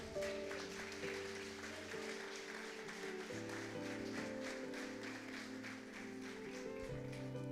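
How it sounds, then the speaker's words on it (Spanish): A church congregation applauding, a soft, even patter of clapping that runs the whole time beneath sustained organ or keyboard chords. "Dele un aplauso al Señor."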